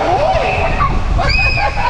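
Water sloshes and splashes steadily on an indoor waterpark ride at the Kartrite Resort, a close, continuous rushing wash with excited voices and shouts mixed in throughout.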